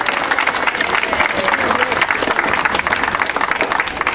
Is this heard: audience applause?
yes